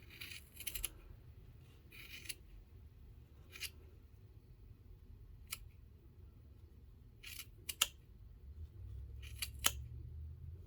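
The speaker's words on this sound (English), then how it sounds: "So you need to cut through all these loops on both ends." Scissors snip through crochet yarn loops on a Santa hat Christmas ornament, giving a string of short, crisp cuts in small clusters with quiet pauses between them, close up and with no talking.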